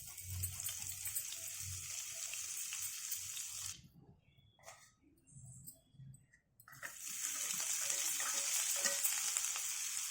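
Ginger sizzles and fries in hot oil in a pan for aloo matar curry, a loud continuous crackle that drops away briefly in the middle while something is stirred, then returns at full strength.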